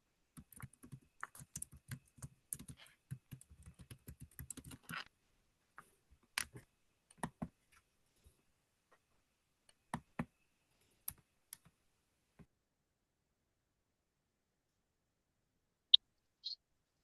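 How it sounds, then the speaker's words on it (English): Sporadic clicks of people typing on computer keyboards during an online all-call meeting, with quick bursts of keystrokes at first, then scattered single taps thinning out, and a couple of brief louder clicks near the end. "I can hear people typing."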